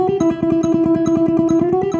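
A guitar exercise with fast, evenly picked single notes moving into an ascending chromatic line, played against a quick metronome in a tight steady rhythm, close and clear with no talk.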